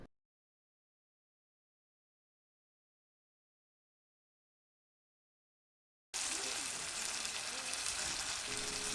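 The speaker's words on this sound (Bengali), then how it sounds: "ফুলকপিটা দিয়ে ভালো করে একটু কষিয়ে নেব।" Cauliflower and potatoes stir-frying in a pan for a rohu fish curry, with a bright steady sizzle that starts abruptly after a long silence, close and moderately loud.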